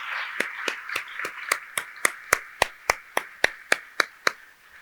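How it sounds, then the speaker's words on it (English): Members of a civic association's executive committee receive applause at an annual meeting, heard as a string of about sixteen sharp, evenly spaced claps that grow louder and then ease off, over a faint room murmur. "I would like to ask our members of the executive committee to please stand for a round of applause"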